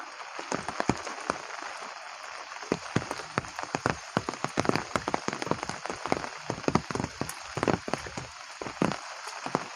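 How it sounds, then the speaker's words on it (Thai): Steady rain falls at the Lam Phra Phloeng dam during a stormy day, a dense outdoor patter of drops with sharp scattered taps hitting a surface nearby, continuous throughout and free of talk. "ตอนเนี้ยฝนตกครับ"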